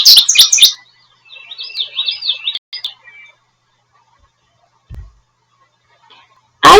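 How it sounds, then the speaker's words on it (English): A goldfinch sings in a backyard, opening with a loud burst of bright chirps, then a warbling twittering run and scattered short calls, with a final sharp chirp at the end. "I hear a goldfinch in my yard."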